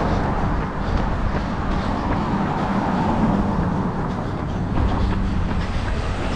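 Two Chevrolets and a BMW drive slowly past on a Florida road narrowed by bike lanes, making a continuous low rumble of tires and engines with no talking.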